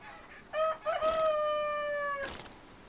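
A rooster crows once in the ArcaniA video game, a clear, close, drawn-out cock-a-doodle-doo with a short lead-in, ringing alone against a quiet background.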